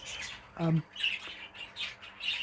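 Finches in a shed give a few bright chirps and a short harsh squawk, close and moderately loud, with a low background murmur and no speech.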